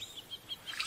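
Outdoor birds chirp in short high tweets, a few evenly spaced calls followed by a denser burst, faint to moderate and with no one talking.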